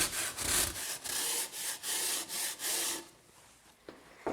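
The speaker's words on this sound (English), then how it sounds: "I'm going to use a tool called a drywall shaver to smooth the edges so that we get a nice clean edge" Drywall shaver smoothing a rough drywall edge, a series of scraping strokes in a steady rhythm, close and bright, then a quieter pause with a couple of small knocks.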